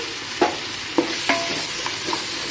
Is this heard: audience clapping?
no